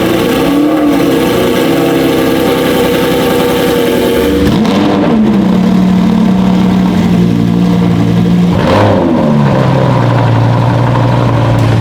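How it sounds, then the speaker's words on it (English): A Lamborghini cold-starts, its engine roaring loudly up close with a high-revving surge, then settling down in steps to a lower, steady idle, with a couple of sharp blips in between. "Let's do some cold starts."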